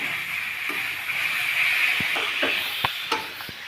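Fried elephant-ear taro being sautéed with spices in a pan: a steady close sizzle runs throughout, broken by a few sharp scraping and stirring knocks toward the end.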